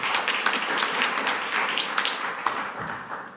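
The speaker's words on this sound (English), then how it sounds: "big applause for her, please." Conference audience applause, steady overlapping hand claps of moderate loudness throughout, tailing off slightly at the end.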